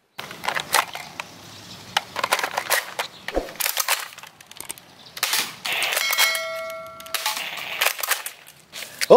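Rapid clicking and snapping shots from a toy M16 assault-rifle blaster, sharp repeated bursts in quick succession, loud and close, with a whirring mechanical tone near the end.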